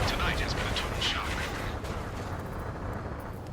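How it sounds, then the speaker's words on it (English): Gunfire and jet roar from the Ace Combat 7 video game fill a night city under martial law, a loud rushing blast with crackling bursts that fades to a sustained rumble, with some voice mixed into the sound. "Gunfire and the roar of jets echoing through the streets."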